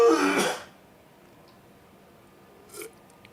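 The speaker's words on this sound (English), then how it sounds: "I should have killed the mic before I coughed in your ear like that" A single harsh cough bursts close into the microphone at the start, loud and broadband, then fades to quiet room tone with a faint short rasp near the end.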